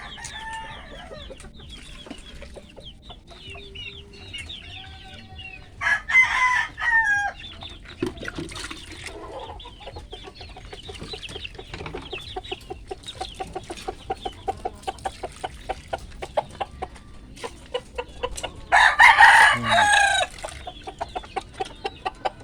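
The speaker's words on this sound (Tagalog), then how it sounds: "Ito yung mga manok." Chickens clucking steadily in a repeating rhythm, with two loud rooster crows breaking through, one early and one near the end.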